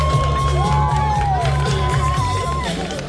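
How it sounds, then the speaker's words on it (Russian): A festival crowd at an Oktoberfest contest in Krymsk cheers, whoops and applauds for a contestant, a dense continuous roar of many voices with shouts over it, loud throughout. "Девушка Весна, ваши аплодисменты."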